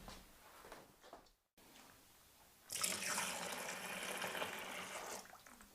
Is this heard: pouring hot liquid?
yes